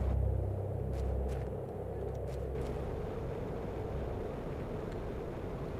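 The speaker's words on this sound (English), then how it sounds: "Why does it sound like a meteor storm?" A deep, heavy rumble of a meteor storm in the video game The Planet Crafter swells at first, then settles into a sustained low roar with a few faint higher crackles above it, and no voices.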